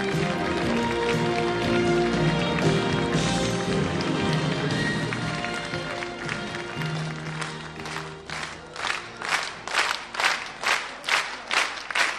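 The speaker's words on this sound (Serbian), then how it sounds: "Hvala za ovolike aplauze i u Vesnino ime i u ime svih nas." A TV studio audience at a Serbian variety show gives a dense round of applause that then breaks into slower, rhythmic clapping in unison, with a few voices mixed in.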